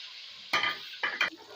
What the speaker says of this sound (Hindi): ये 150 ग्राम ऑयल है, और एक दरमियाने साइज का प्याज है। ये इसका तड़का बनाने लगे।